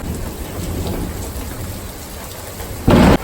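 A thunderstorm with steady rain drumming on surfaces and a low rumble of thunder, then a sudden loud short burst near the end, with no voices.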